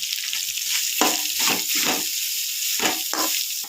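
Grated coconut sizzles as it sautés in a pan over a low flame, with soft crackling and a few stirring scrapes close by.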